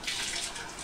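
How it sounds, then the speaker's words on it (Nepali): Water pours steadily from a household tap for under a second, a continuous bright hiss-like splash close to the microphone, with no talk over it. "पानी हाल्ने कार्यक्रम हुँदैछ हो"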